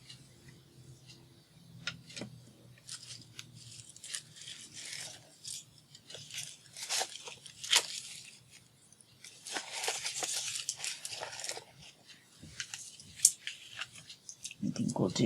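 Scissors snip and trim through lace and paper-craft material in a series of close, irregular clicks and cuts, with quiet pauses and handling noises between them.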